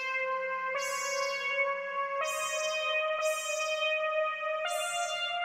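A synth-pop synthesizer tune run through an effects rack with delay, reverb and chorus plays sustained bell-like notes, each new attack blooming with a bright shimmer that then decays into a lingering wash.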